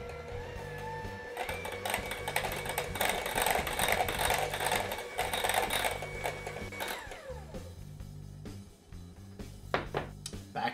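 An electric mixer whirs steadily through cheesecake filling in a bowl, a close buzzing motor hum with rattling beaters, which winds down and stops, followed by a few clinks.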